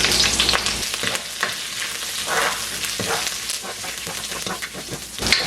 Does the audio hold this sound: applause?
no